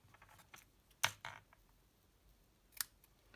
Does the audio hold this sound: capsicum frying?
no